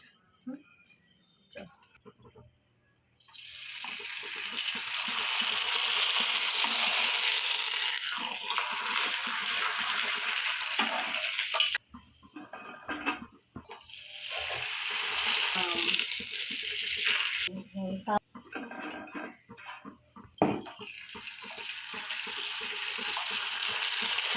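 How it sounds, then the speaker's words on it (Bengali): Mango papad made from mango and flour fries in hot oil, bursts of loud crackling sizzle swelling and fading several times as pieces go in and come out, close by, with quieter gaps between. "এবার চলুন পাঁপড়গুলো একটু ভেজে নেওয়া যায়"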